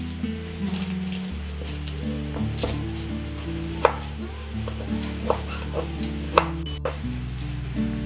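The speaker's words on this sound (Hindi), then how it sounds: "इन सभी को मैं इस तरह से काटने जा रही हूँ" A knife chops bitter gourd into strips for pickle on a board, giving sparse, uneven knocks that land close and fairly crisp over a low steady background hum.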